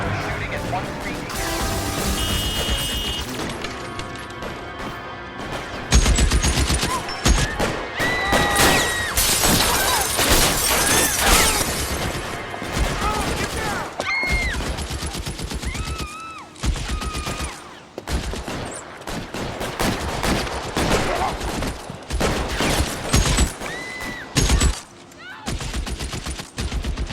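Gunfire in the LA Noire shooting case, with repeated rapid shots and breaking glass that come loud and dense, and crashes mixed among them. Game voices and music sit underneath.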